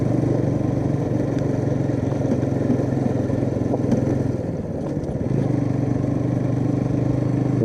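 A Bajaj Pulsar NS200 motorcycle rides along a rough, badly broken road, its engine droning steadily with rattles and clatter from the bumpy surface, briefly easing before pulling on again.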